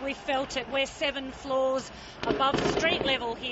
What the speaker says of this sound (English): some of what sounds like gunfire, but is actually the release of tear gas